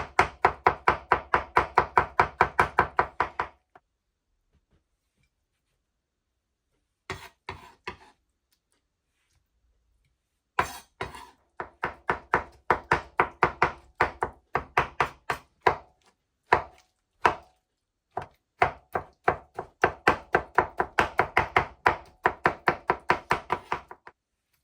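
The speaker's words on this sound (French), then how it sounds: "Donc, on va bien hacher l'aubergine." A knife chops peeled eggplant on a cutting board in quick, regular rhythmic taps, close and crisp, in several runs separated by pauses.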